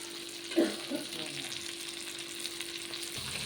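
Fish pieces frying in a pan of oil give a steady, quiet sizzle with a short clatter near the start, with no voices.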